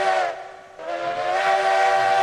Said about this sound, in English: Such an angry whistle.